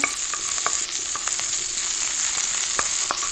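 Squash puree sizzles and fries steadily in a pan, with a continuous loud hiss and scattered clicks and taps from stirring throughout, and no talking.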